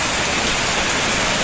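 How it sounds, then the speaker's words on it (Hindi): Heavy rain pouring down steadily, a loud dense hiss of water on surfaces filling the whole moment without pause. "बारिश बहुत तेज हो रही है, लगभग बहुत देर से हो रही है"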